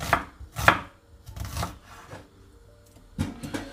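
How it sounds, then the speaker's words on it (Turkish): A knife finely slices an onion on a board in quick bursts of crisp chopping strokes, several clustered cuts, a pause, then more, close and alone. "Şimdi burada soğanı çok ince kesiyoruz tamam mı? Fakat rendelemiyoruz."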